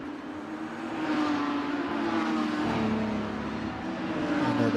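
Porsche 992 GT3 race cars rev as they leave the grid for the formation lap at Bahrain, making a loud, steady engine roar that swells and holds throughout, with no voices.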